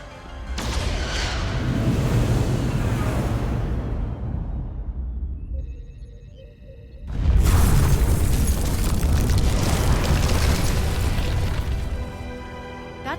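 Starship weapons fire and explosions in the Star Trek Resurgence video game: a long, loud rumbling barrage, then a brief lull with a faint electronic tone, then another heavy burst of booming blasts that slowly fades.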